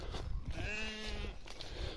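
A Cameroon sheep bleats once at dusk on a pasture, a single clear, wavering call lasting about a second, near and fairly loud over rustling background noise.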